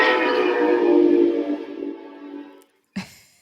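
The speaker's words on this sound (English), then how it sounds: "Sorry, There's a train. I live on the train tracks pretty much." A train rolls past close by the tracks, its loud horn blaring with a strong, steady rumble that fades after about two and a half seconds, followed by one short sharp knock.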